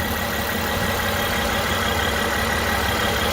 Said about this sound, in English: you'll find this V6 idling quite happily off of this cold start